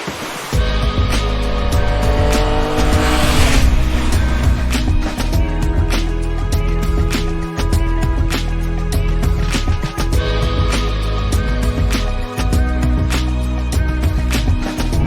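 Continuous road-riding roar from a new Yamaha Tracer 9 motorcycle, with a strong low engine rumble mixed with heavy wind rush and a brief surge early on, steady throughout with no talk.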